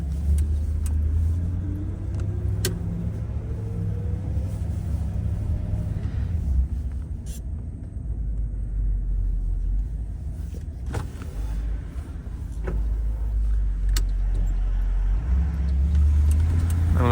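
A 1960 Cadillac Series 75 limousine engine rumbles steadily while driving, a low continuous drone with faint clicks and creaks of the driver controls, and no voices.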